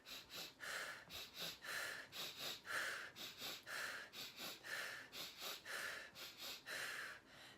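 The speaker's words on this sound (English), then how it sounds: "Then you've got pranayama, which is the 4th step, which is breathing, which is breath control." Rhythmic pranayama breath-control breathing, a rapid series of forceful, evenly paced nasal exhalations, about two per second, close and steady with short gaps between, no talking.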